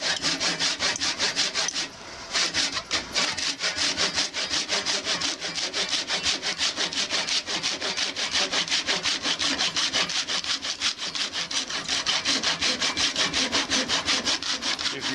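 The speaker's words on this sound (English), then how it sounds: "So I always try to saw when I'm going down." A hand saw cuts through a workpiece clamped in a vise with rapid, even back-and-forth strokes, loud and close, continuing steadily throughout with only a brief pause near the start.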